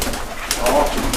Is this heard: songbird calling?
yes